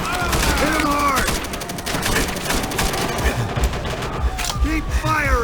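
Rapid gunfire in a World War II shooter game, Call of Duty: World at War, with dense bursts of shots, booming impacts and overlapping combat noise continuing throughout, while shouted voices come and go.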